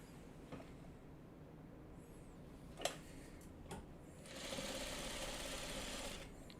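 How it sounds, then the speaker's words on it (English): A sewing machine stitches a quilt block, with a few clicks and taps before a steady, close run of stitching in the second half. "Okay, then we'll sew this."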